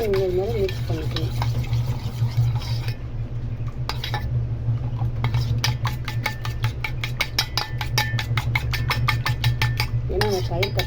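Egg and curd for a hair mask are whisked briskly in a bowl, making a fast, steady run of close tapping and clinking strokes. A voice talks briefly at the start and end.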